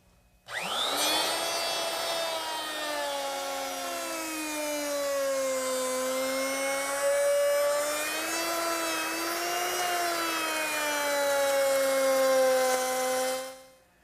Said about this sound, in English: I'll make that rabbet using my 3/8 inch rabbiting bit in my router.